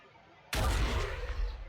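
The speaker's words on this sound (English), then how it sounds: "Let's grenade their cover." A grenade explodes in the Warhammer 40,000: Sanctus Reach video game, a single sudden loud boom with a heavy low rumble that decays slowly into a rolling tail.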